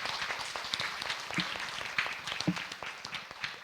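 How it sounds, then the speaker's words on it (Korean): Scattered, fairly quiet clapping from an audience at an office-life talk show as a presenter finishes her speech, individual claps standing out in a loose, thinning rhythm. "큰 박수"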